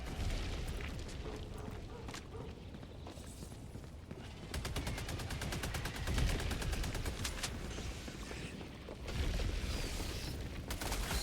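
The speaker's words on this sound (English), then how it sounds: "to help my machine gun quell that breach" Machine gun fire in Helldivers 2 against a Terminid bug breach: rapid, sustained bursts of rattling gunfire with booming explosions mixed in, dense and loud throughout, under occasional speech.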